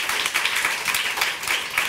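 An audience gives a brief burst of dense, fairly close applause, with many hands clapping in a steady wash of sound.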